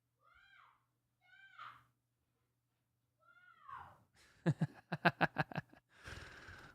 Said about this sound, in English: My cats got into a fight downstairs.